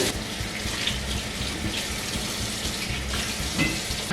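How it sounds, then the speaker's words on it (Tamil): Hands washed under a running tap, a steady close rush of water splashing into a sink with slight shifts in the flow, continuous throughout. "கையை முருகா கழுவுறேன்."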